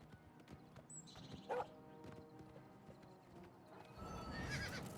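A horse in the video game Oblivion Remastered, hooves clip-clopping at a steady pace with a sharp whinny partway through, then louder rumbling movement toward the end.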